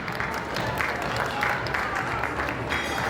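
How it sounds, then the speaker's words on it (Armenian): Guests applauding at an Armenian christening celebration as a brother and sister open the doors, steady dense clapping with crowd murmur and a voice underneath. "մենք բարձր ծափարություններ հնչեցնենք"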